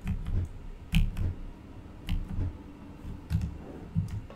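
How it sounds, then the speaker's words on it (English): Computer keyboard keys are pressed while playing the Tomb Raider level editor game Emporia - Lost In the City, giving sparse, quiet clicks and taps in small clusters against a low background hum. "Press B on the keyboard."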